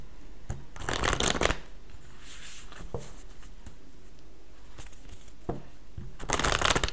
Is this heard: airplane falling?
no